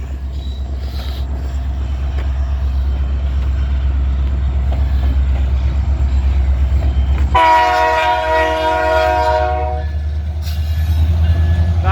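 CN grain train rumbling past loud and close with a heavy low roar, then its multi-tone horn blasting strongly for about three seconds before a brief final toot as the cars keep rolling by.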